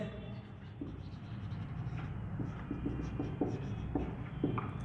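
Pen scratching across paper while filling in a triple-column cash book, a steady run of short strokes at close range over a low background hum.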